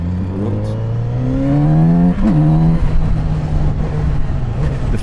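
Kawasaki Z900RS motorcycle accelerating hard at full throttle on the road, a loud close engine roar rising in pitch through one gear change.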